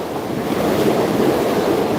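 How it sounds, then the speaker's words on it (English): Steady, rushing bubbling churn of water in a hot tub, a loud continuous frothy wash with no pauses. "Bubbles are fairly audible."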